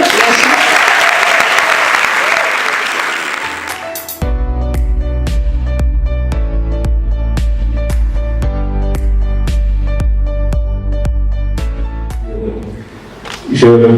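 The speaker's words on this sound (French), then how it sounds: "Merci Michel, on va l'applaudir." An audience at the AdiCom Days 2018 communication event applauds a speaker with loud, dense clapping for about four seconds, then the applause gives way to rhythmic music with a steady beat.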